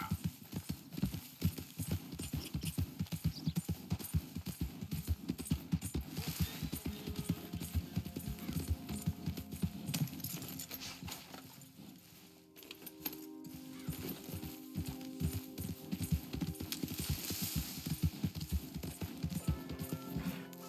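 Steady, rapid clip-clopping of horse hooves in Red Dead Redemption throughout, loud and close, with a brief lull midway before the trotting rhythm resumes.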